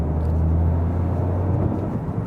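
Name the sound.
road noise inside a 2025 Toyota GR Yaris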